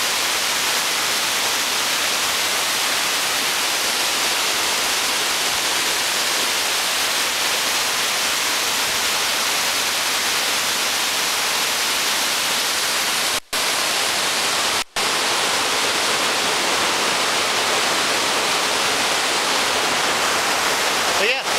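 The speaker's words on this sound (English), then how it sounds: "the falls are fed by kind of a little tributary here, and part of the Jemez River" A waterfall fed by a small tributary of the Jemez River pours steadily, a loud broadband rush with two sharp dropouts near the end.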